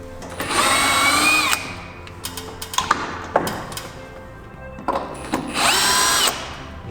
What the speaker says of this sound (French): Vous pouvez ajouter des vis dans le bandeau pour le ramener, pour bien le plaquer.